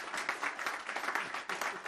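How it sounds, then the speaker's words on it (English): An audience at a company earnings event applauds a departing executive, a dense, steady patter of many hands clapping at moderate volume for a couple of seconds. "Please join me in applauding Thomas."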